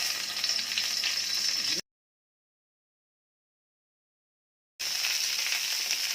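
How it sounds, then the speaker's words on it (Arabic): Eggplant fries in shallow oil with a bright, steady sizzle that cuts out to total silence for about three seconds, then resumes at the same level. "هعمل شويه بتنجان مقلقلين كده في الزيت"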